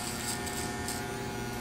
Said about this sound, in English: We're going to come back with our trimmers for the sake of the demonstration here